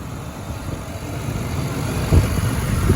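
A 1995 Chevy Caprice Classic with a throttle-body-injected 5.7 liter V8 runs at a steady idle, a low continuous rumble close by, with a slight bump in the last second.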